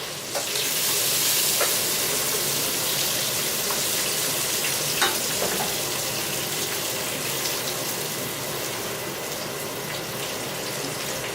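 Sausage frying in a pan, a dense steady sizzle and crackle with occasional sharper pops, close and even throughout, with no talking.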